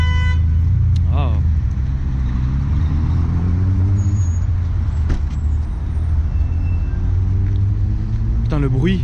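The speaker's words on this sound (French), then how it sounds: "C'est une des rares RS6 que je connais qui pétarade au passage de rapport." Audi RS6 with a V10 engine, tuned to 730 hp, roars loudly up close, its engine note climbing through the gears, with sharp backfire pops on the shifts near the start, middle and end.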